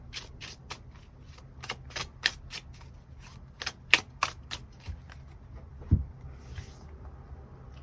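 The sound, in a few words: shuffling tarot cards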